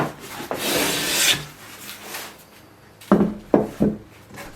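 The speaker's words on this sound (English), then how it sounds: "as I plane it down" A hand plane shaves thin strips of timber for a walking stick: one long, rasping stroke, then a pause and three short, sharp scraping passes, close and loud.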